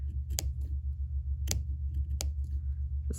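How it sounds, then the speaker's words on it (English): A sharp pair of scissors snips paper toward a glue line in a craft box project, using only the tips: three or four crisp, isolated cuts over a steady low hum, with no talking. "we're going to snip, and it will be easier if you just use the tips of your scissors"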